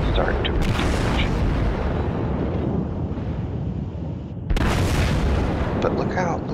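Artillery guns in a video game fire in salvos, heavy booming blasts rolling into a sustained roar with one sharp renewed burst partway through, loud and close amid wind-like rumble.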